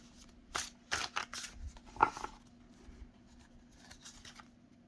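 A Celestial Tarot deck being shuffled by hand, soft riffling card flutters and light flicks in a quiet room, faint and close with short bursts.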